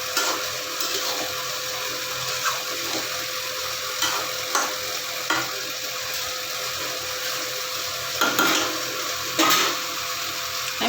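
Spices sauté in ghee in a pan for a vegetarian potol curry, a steady close sizzle with occasional louder bursts and clinks of a stirring spoon scattered over eleven seconds, no voices.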